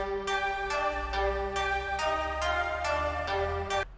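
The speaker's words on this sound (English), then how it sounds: "I added some strings that I had from some kind of Nexus extension pack" Bright synth strings from a Nexus expansion pack play a drill melody of rhythmic repeated chord stabs over a sustained low bass tone, loud and continuous for about four seconds.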